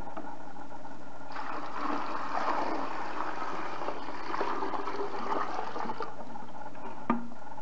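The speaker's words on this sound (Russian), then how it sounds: "заливаем эти щетки" Liquid is poured over quartz crystal clusters in a container, a steady watery splashing and trickling that runs for about five seconds at moderate closeness and ends with a short knock.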